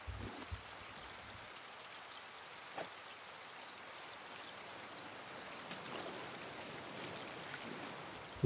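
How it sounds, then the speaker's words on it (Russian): Steady rain patters across the open sea in the survival game Raft, a soft even wash of drops with a few brief clicks and thumps early on, with no voices. "Дождь пошел."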